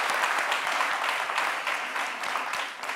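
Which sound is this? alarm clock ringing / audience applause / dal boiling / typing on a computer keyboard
audience applause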